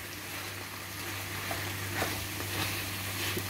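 Sausages and herbs with garlic, ginger, onion, coriander and parsley are stirred in a frying pan, giving a steady soft sizzle with faint scraping stir sounds and a low hum beneath, no talk.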